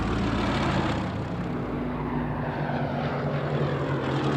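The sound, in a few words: WWII fighter aircraft propeller engines in Battle of Britain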